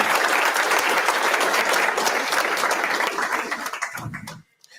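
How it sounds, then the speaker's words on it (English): Sustained audience applause for a guest speaker at a lecture on the origin of life, dense and loud clapping throughout that tapers off and stops near the end. "let's give a big round of applause for Dr."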